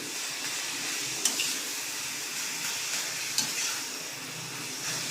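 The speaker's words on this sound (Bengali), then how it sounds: "এই কাঁচা ভাতটা চলে যাক, আমি কিছুক্ষণ নাড়াচাড়া করি।" Grated papaya and rice stirred in a hot pan, a soft continuous sizzle with a few sharper scrapes of the spoon, close and without speech.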